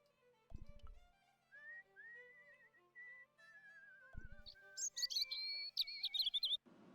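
A character in the point-and-click game Broken Sword whistles a wavering, bird-like tune, alone and fairly clear, with a few short thuds and a chirpy flourish near the end.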